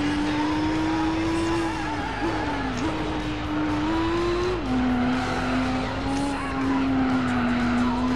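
A race car in Gran Turismo 4 drives with a loud, steady engine drone whose pitch rises and drops sharply at gear shifts, with tire squeal and no voices over it.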